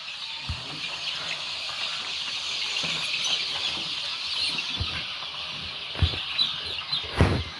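Chickens cluck and murmur at a distance in a poultry house over a constant high hiss, with a few louder squawks and clucks near the end.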